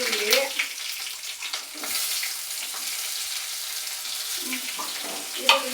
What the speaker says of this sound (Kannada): ಈರುಳ್ಳಿ ಮಿಕ್ಸ್ ಮಾಡ್ಕೊಳ್ತಾ ಇದ್ದೀವಿ.